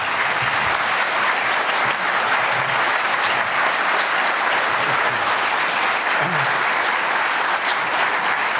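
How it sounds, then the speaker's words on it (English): Sustained audience applause at a conference panel discussion, dense and even throughout, steady and fairly loud with no voices over it. "Thank you very much for your applause."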